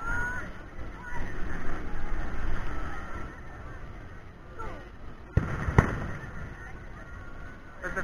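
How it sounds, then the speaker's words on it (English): A fireworks show carries on at a distance as a continuous rumble of muffled bursts and crackle, with a couple of sharper pops near the end, while people talk and the surroundings stay noisy throughout. "But the fireworks show is still continuing."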